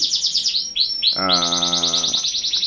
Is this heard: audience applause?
no